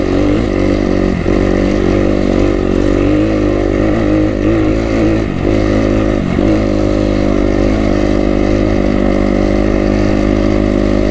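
A Kawasaki KX250 dirt bike is ridden hard, its engine droning loud and close with steady revving and a few brief dips in throttle, and no voices.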